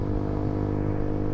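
A KTM RC 125 four-stroke motorcycle with an Akrapovic exhaust, baffles removed, runs at a steady idle, producing a close, even, throaty drone with no revving and no talk.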